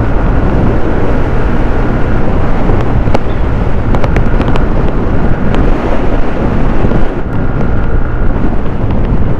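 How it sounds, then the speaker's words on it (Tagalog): Strong, loud wind buffets the microphone while riding a 2023 Yamaha Aerox 155 scooter, a constant roaring rumble with a few brief ticks and no talking. "kahit malakas yung hangin"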